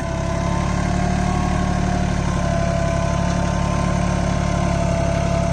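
A Swaraj Target 630 4WD mini tractor working a cultivator in a field, its diesel engine droning loud and steady under heavy load throughout, with a constant low throbbing hum and no voices.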